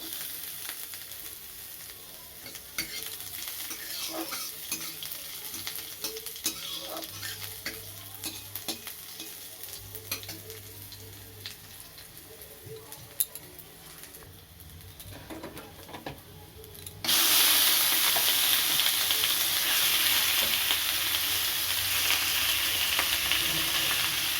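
Chopped garlic and whole garam masala spices frying in a little oil, a steady sizzle with scraping stir sounds; the frying jumps noticeably louder and brighter partway through, then holds a dense, even hiss.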